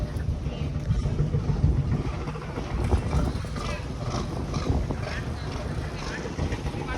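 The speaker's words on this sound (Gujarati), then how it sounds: "હા હાલે જો બોટ હાલી બહાર કાઢે છે આને." A boat moves out at Veraval harbour in Gujarat with a rumbling engine and wind buffeting the microphone, a continuous low churning noise with faint voices in the background.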